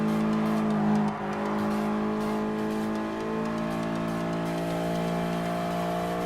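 Toyota 86 GT race car engine in Gran Turismo Sport holds a steady, loud high-revving drone with strong harmonic whine for the whole stretch, dipping briefly near the start before climbing again, with no talk over it.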